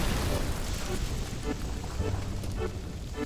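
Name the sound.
fire spell thawing ice in the video game Bioshock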